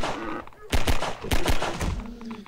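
Several sharp, loud gunshots ring out close together while zombies are shot in the canals of Half-Life 2, with someone talking before and between the shots.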